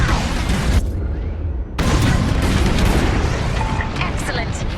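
Bombs exploding in the Star Wars Squadrons space-combat game, heavy booming blasts with a rumbling roar, loud and dense, briefly cutting out before a second wave of explosions.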